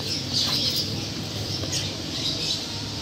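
Birds at a bird market squawk and chirp in a steady, busy chorus, with some wing flapping mixed into continuous background bustle.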